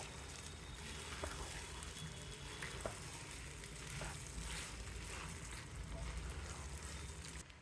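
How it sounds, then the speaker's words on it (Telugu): Green peas fry in a pan for pulao, giving a faint, steady sizzle with a few soft stirring taps and a low background hum. "చూడండి ఈ బఠానీ బాగా వేగింది"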